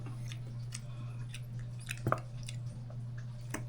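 Someone chews crispy fried fish close to the mic, with soft crunches and squishy bites coming in a loose rhythm at low volume and no talking.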